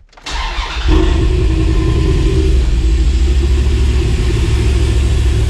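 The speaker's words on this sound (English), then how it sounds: "So we're gonna turn it off, and then we can actually start the vehicle." A 5.9L Magnum V8 in a Dodge Dakota R/T, fitted with new heads and cam, cranks briefly and catches, then settles into a loud, steady, rumbling idle close by with no talking.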